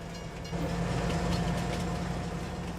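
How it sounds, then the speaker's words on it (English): A train departing in the video game Farming Simulator 22, a steady low engine rumble with faint rolling clatter swelling after a moment, without talk. "The train will now drive to Goldcrest Valley and return on the other side of the map."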